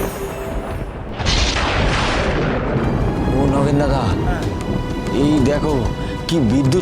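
Deep thunder rolls and rumbles through a lightning storm, a broad booming swell building after the first second and lingering under raised voices talking over it.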